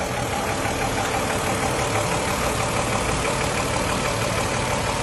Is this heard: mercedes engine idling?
yes